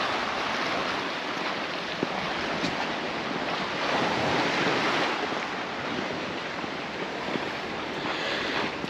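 Sea waves surge and wash steadily along the Santa Ponsa shore in Mallorca, a continuous loud roar of surf with wind buffeting the microphone and no talking.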